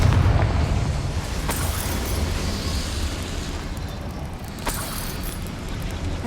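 A Confringo fire spell bursts in the video game Hogwarts Legacy with a loud, booming blast that trails into a rumbling roar, marked by two sharp cracks, with no talk.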